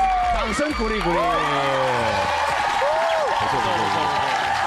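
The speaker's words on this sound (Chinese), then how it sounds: "掌声鼓励鼓励！" Studio audience applause on a Taiwanese TV variety show, a steady wash of clapping running underneath loud, animated talk from the hosts throughout.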